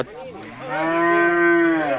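Crossbred cattle moo at a livestock market, one long, loud, drawn-out low call rising and holding, close by with faint background bustle.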